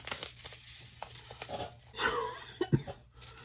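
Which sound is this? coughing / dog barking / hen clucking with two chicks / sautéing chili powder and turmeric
coughing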